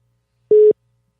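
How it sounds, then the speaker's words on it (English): A single short electronic phone beep, a clean steady tone lasting about a quarter second, loud and isolated against near silence. "I get a beeping phone here"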